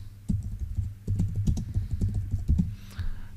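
Someone types a short search query on a computer keyboard: a quick, irregular run of soft, close key clicks with brief pauses, quiet and alone.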